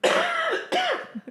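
Two quick, close coughs in a row, the second slightly weaker, followed by a faint throaty trailing sound.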